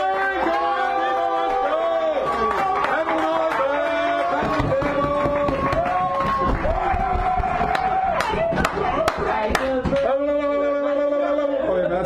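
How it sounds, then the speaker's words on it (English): An audience at a San Francisco café poetry hour welcomes a poet's debut with loud whoops, cheering voices and scattered clapping. The noise is sustained and crowded, with sharper bursts of claps near the end. "Brittany, give her a round of applause."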